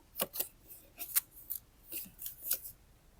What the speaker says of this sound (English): Then you snip on the folded side